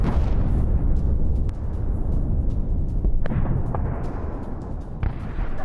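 A heavy explosion from an Israeli strike on Hodeidah port in Yemen, heard as a loud, continuous deep rumble with scattered crackles and bursts throughout, and no talking.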